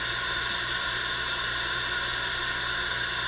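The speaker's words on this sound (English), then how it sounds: "this is the white noise generator itself" A white noise generator hisses through a capacitor outside-foil sniffer, a constant, even broadband hiss with a faint low hum underneath, unchanging and uninterrupted.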